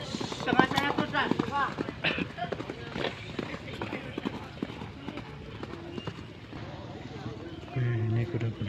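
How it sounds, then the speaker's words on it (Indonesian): Horses trot in a clip-clop rhythm during a morning training session before a traditional Gayo horse race, the hoofbeats running under steady nearby talk and calls. "Ini kuda-kuda selanjutnya akan berlatih."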